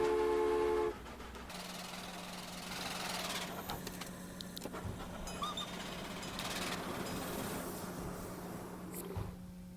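A train in the video game Transport Fever 2 rumbles along with a steady mechanical hum and rhythmic clattering, punctuated by brief knocks and hisses, moderately loud after a short burst of game music at the start.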